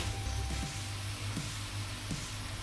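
Butter sizzles in a gumbo pot for a surf and turf gumbo, a constant close frying hiss broken by a few soft stirring scrapes.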